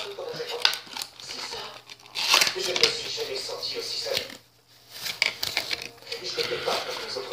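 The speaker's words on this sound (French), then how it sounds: "Désolé s'il y a du son en arrière, c'est le petit plastique toujours dur à retirer." Hard plastic wrapper being peeled off blind-box toy packaging, with crinkling and crackling bursts close to the mic, pausing briefly midway, while a person talks over it.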